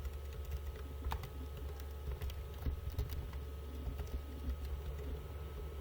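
Quiet clicking of keys on a computer keyboard, a short irregular run of light taps over a steady low hum of background noise, with no speech.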